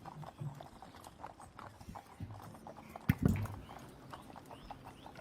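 Horses clip-clop at a walk along a road past a field, their hooves tapping in a steady, fairly faint rhythm, with one louder nearby knock partway through, amid soft outdoor background noise.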